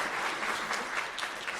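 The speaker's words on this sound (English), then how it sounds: "Round of applause for track." Sustained audience applause at a conference keynote, a dense even wash of many hands clapping throughout with no voices over it.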